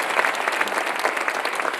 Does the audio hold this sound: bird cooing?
no